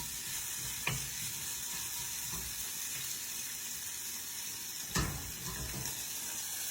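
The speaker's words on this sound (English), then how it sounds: "Those are sauteing up." Leftover fajita quesadilla filling sautes in a pan with a steady, soft sizzle, broken twice by brief clatters of stirring; no voices.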